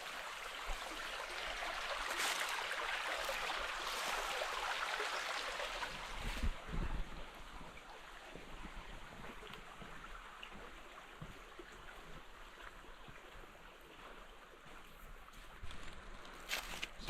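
Creek water flows steadily beneath a small footbridge on a hiking trail, a continuous broadband rush that holds close and even, with a brief knock partway through.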